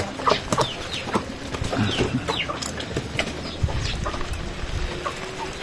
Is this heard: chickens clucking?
yes